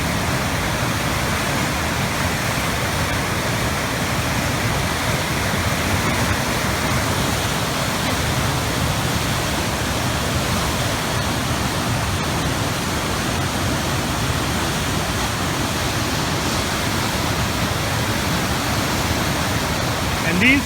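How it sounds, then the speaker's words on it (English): Class 5 river rapids at Devil's Hole roar in a dense, unbroken wash of churning whitewater, loud and close from the bank, steady throughout. "these here are not even the Class 6 rapids. These are still Class 5 considered"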